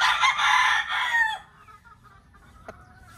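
A white Kelso stag rooster crows once, loud and close, for over a second, followed by quiet with a brief faint click.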